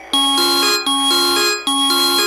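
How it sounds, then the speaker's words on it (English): Bright, bell-like electronic keyboard notes come through a phone line, three sustained tones in a row, loud and clear with short gaps and no voices. "Did somebody start playing like a keyboard in my phone?"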